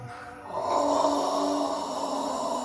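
Someone does a breathing exercise for a chronic cough, making a long, steady, droning exhale close by that swells and then holds for about two seconds.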